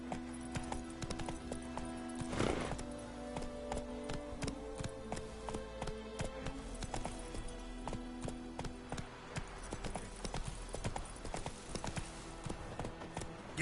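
Horse hooves clip-clopping in The Witcher 3, a quick rhythmic run of hoof strikes repeating steadily throughout, close and fairly quiet, with a brief louder thump near the start.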